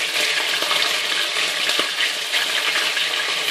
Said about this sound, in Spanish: Ahora ya está el aceite caliente. Estoy poniendo los trozos del pollo.